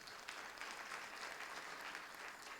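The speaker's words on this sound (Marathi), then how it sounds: "टाळी वाजवा." An audience at a kirtan marking a saint's death-anniversary samadhi ceremony claps steadily and evenly throughout, a soft, rather distant patter of many hands with no voices over it.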